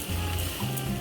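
Masala sizzles and fries in a pan for Indian dal tadka, a short steady crackling hiss close by with no voices.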